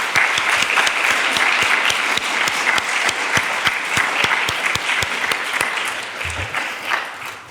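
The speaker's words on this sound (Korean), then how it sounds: "격려의 박수 한번 부탁합니다" Sustained applause from a church congregation at a graduation service, honoring teachers, steady and dense for the whole stretch with sharp individual claps standing out, fading slightly near the end.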